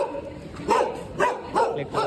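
A dog barking four times in quick succession, loud and close, with the barks evenly spaced about half a second apart.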